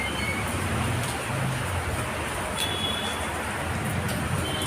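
Heavy rain pours down in a dense, continuous hiss, loud and steady with no pauses.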